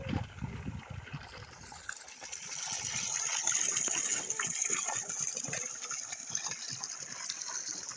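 Water gushes and splashes steadily from the outlet of a 3 HP borewell motor pump drawing from 400 feet deep, a loud continuous rushing flow with a bright hiss, close by throughout.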